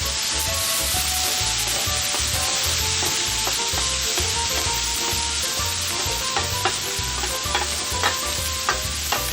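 Pork chops seasoned with Italian herbs sizzle steadily on a hot grill, a continuous loud frying hiss with scraping stirs and small crackles throughout, no voices.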